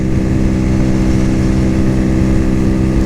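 Cougar Vitacci XMT 250 motorcycle cruising at half throttle in fifth gear around the mid-60s mph, a loud, steady buzzing engine drone with rushing wind, continuous and close.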